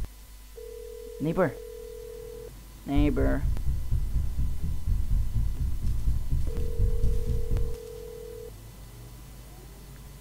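A telephone rings in the video game Hello Neighbor Alpha 2, two long steady electronic tones separated by a pause, while people talk over it.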